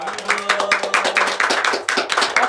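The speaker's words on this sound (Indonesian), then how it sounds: "Ayo kasih tepuk tangan yang meriah buat narasumber spesial kita" Lively audience applause for a special guest on a campus radio podcast, dense overlapping hand claps close by, lasting a couple of seconds.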